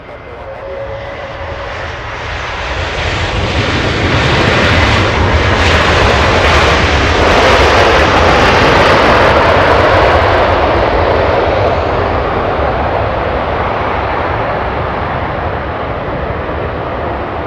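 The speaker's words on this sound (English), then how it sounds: "A330, this one, flying in from Hawaii." An Airbus A330 arriving from Hawaii roars in to land at Los Angeles International Airport, its jet engines swelling from a distant rumble to a loud, broad, sustained roar before easing off slightly as it passes.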